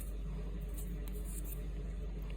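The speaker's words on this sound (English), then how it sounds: "That's our furnace kicking in because it's springtime here and it's a little chilly in the house" A house furnace runs steadily in the background, a continuous low rumble and broadband whoosh that holds constant throughout, moderately loud with no distinct events and no talking.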